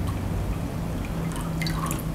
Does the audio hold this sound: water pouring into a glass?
yes